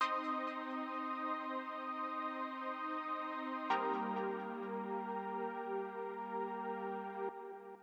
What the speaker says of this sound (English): Then I added these chords from Purity. I'm using this preset here, 80s block 2